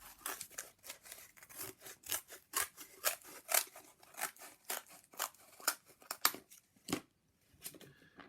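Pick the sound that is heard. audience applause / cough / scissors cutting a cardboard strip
scissors cutting a cardboard strip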